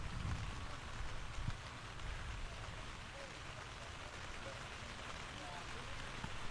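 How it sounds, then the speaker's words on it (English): Steady rain patters on a tent, a dense, constant hiss of drops on fabric that stays even throughout with no other sounds standing out. "Still got cameras out in the rain."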